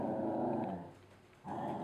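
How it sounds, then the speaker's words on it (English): A dog growls low and steadily for about a second, pauses briefly, then growls again, close by with no talking. "that's our dog. She likes cheesecake too."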